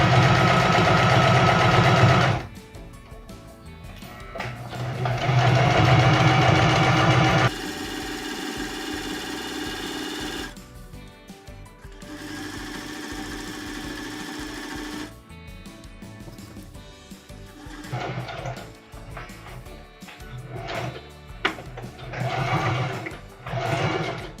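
A sewing machine stitching the hem of a dish towel, running in bursts of steady motor hum and rapid needle clatter separated by short pauses and quieter stretches, close by with no talk.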